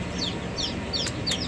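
A newly hatched chick on a homestead peeps repeatedly in short, high chirps, about four quick calls close by, over a faint background murmur.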